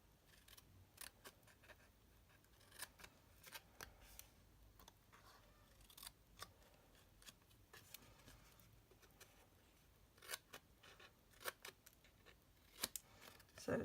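Scissors snip paper and foil sheets while cutting and notching pieces for a Valentine gift box, giving a string of close, crisp cuts and rustles that come and go irregularly, with a few sharper clips near the end.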